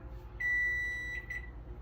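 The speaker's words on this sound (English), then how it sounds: "You have 5 seconds until the timer ends." Electronic kitchen timer sounding a steady high-pitched beep, one long tone followed by a shorter one, clear and close over a low background hum while hamburger meat cooks.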